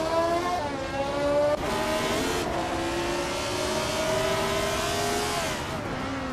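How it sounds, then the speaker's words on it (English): A 1975 Brabham BT44B race car roars steadily on a racing track, its loud engine note rising and shifting as it accelerates, with a brief gear change midway and no talking. "leading the pack is Roger Burr 302 in a classic 1975 Brabham BT 44B"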